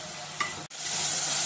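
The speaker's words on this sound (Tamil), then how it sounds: "பாருங்க, நல்லா வதங்கிடுச்சு." Mushrooms with a little salt sautéing in a pan for mushroom biryani, a close steady sizzle with one quick stirring scrape and a brief dip in the noise partway through.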